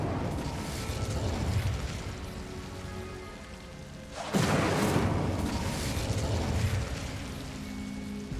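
Incendio fire spell cast in the video game Hogwarts Legacy, a sudden whooshing burst of flame that roars loudly and then settles into a crackling, rumbling burn.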